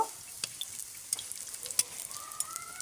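Onions browning in a pan for a Bengali prawn and potato curry, with a soft continuous sizzle broken by sharp crackles and spits and light stirring, heard up close with no voices.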